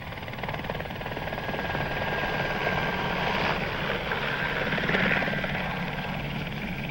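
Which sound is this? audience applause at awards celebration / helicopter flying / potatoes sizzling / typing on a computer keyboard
helicopter flying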